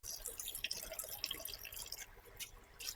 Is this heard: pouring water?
yes